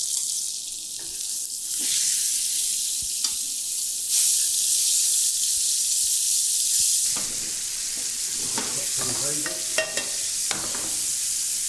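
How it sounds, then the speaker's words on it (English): Steak and wild mushrooms sizzling in a pan, a steady hissing fry throughout, joined by clinks and scraping toward the end, close and fairly loud, with no talking. "steak's cooking, wild mushrooms are cooking"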